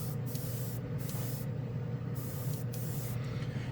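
An airbrush sprays Ammo A-Stand chrome paint in a steady, soft, close hiss, with brief pauses and restarts as the trigger is worked.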